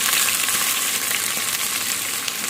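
Curry leaves, green chillies and chopped onions frying in hot oil in a pan, giving a steady, dense sizzle that stays loud and even throughout, with no talking.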